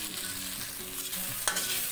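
Vegetables for restaurant-style fried rice sizzle loudly in a hot pan, a dense continuous frying hiss with stirring, one sharp clatter near the end, close-up and without talk.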